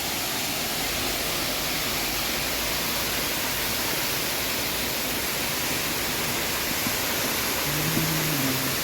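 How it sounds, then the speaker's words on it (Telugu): Murga Mahadev waterfall roaring steadily, a dense unbroken rush of falling water filling the whole scene, with a faint brief tone near the end. "చూడండి, మురుగా మహాదేవ్ వాటర్ ఫాల్స్."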